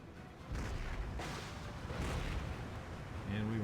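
Mortar artillery rounds fire in Empire Total War with the Darthmod mod: a series of heavy broadband booms about every second, one after another over a rumbling battlefield din, with a faint tone creeping in near the end.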